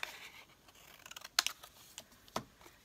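Scissors snipping to trim a shiny printed picture on photo paper for a card craft, a few faint scattered cuts and paper rustles with a couple of sharper snips, quiet and close.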